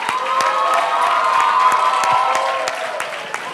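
A school audience applauds and cheers to welcome FOT students for a graduation dance performance, a loud continuous wash of clapping with shouts and whoops layered over it.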